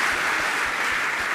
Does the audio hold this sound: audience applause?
yes